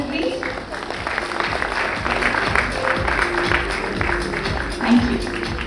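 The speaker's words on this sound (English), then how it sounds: "A round of applause for Mr. Amit, please." An audience at an HR and technology conference in Bengaluru claps to welcome a panelist, moderate steady applause with a faint voice and tonal hum underneath.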